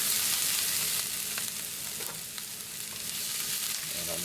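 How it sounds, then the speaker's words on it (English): Food browns in a hot pan, giving a steady, close hiss of sizzling frying with small pops and crackles throughout, no voices. "I'll just continue cooking with the remaining heat that's in the pan"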